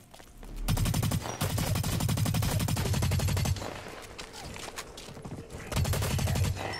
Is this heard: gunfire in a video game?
yes